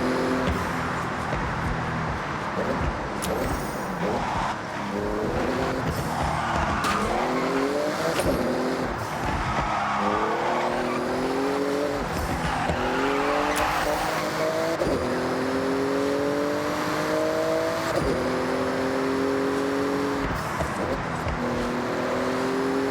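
A Porsche racing flat out through a speed zone in the Forza Horizon video game, its engine revving steadily higher through gear changes, loud and continuous, with tire noise, while people talk over it.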